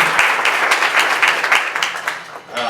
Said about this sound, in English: I'm going to ask my mom, Dragana, to stand up so you guys can all give her a round of applause.